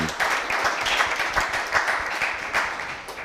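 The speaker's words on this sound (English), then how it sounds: "let's give him a warm round of applause for our open discussion" A seated audience at a conference open-discussion session breaks into a warm round of applause, steady dense clapping that swells and holds for several seconds without speech.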